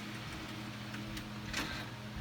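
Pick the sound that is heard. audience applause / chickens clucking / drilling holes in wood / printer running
printer running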